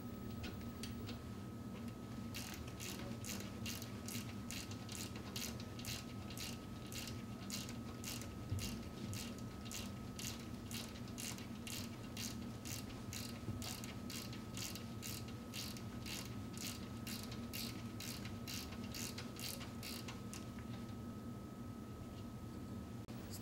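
A ratchet wrench turning the suction service valve on an Emerson refrigeration trainer, steady evenly spaced clicks repeating for about twenty seconds over a constant low hum, fairly quiet and close.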